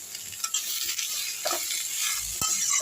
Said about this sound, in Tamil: இதையும் போட்டு எல்லாத்தையும் வதக்கிப்போம்